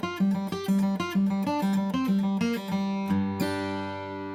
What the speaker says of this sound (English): all I'm doing is pulling off of the scale note and then following through with an upstroke on the open G